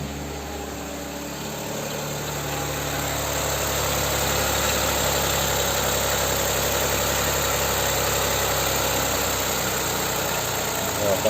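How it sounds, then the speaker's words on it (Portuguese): A 2021 Chevrolet Tracker Premier engine idles steadily and evenly, a close, constant hum that settles and holds without change. "Está estabilizando a marcha lenta."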